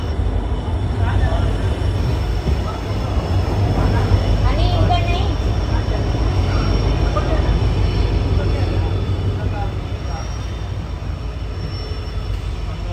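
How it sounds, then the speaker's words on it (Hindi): A train rolling at Mavli Junction station in Rajasthan, a loud continuous rumble with rattling wagons heard close by throughout, with people talking over it. "ये शायद चित्तौड़ वाली है, कौन सी ट्रेन आई है।"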